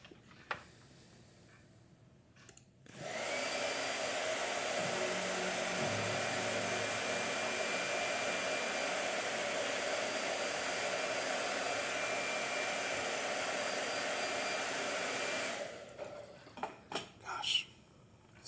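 A blow dryer switches on and runs steadily and loudly for about twelve seconds before cutting off, with faint clatter at the start and end, likely used on watercolour painting in a hot press sketchbook.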